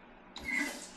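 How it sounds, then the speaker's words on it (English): Water running into a toilet tank just after a Fluidmaster fill valve repair, starting abruptly partway through as a soft, steady rushing hiss at close range, with no talk. "What I'm going to do is turn the water on."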